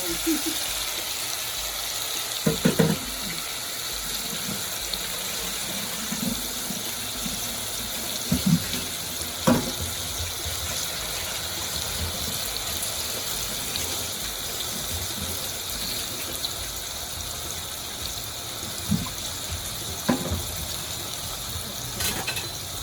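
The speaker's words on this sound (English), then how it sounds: "I'm going to wash my hands." Water runs steadily from a kitchen tap during hand washing at the stove while a beef stew sears, a continuous hiss with a few faint knocks and clatters over it, fairly close and alone without talk.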